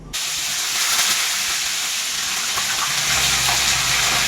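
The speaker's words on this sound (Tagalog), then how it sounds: "Iprito muna natin ang isda." Fish frying in hot oil in a pan for a ginisang isda with gabi dish, a loud steady sizzling hiss throughout, close up and with no talk.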